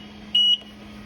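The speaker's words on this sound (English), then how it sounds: "And if you pull up, you get a horn." A Taski 2500 floor scrubber gives one short, steady electronic horn tone, about a fifth of a second long, loud and clear over a low machine hum.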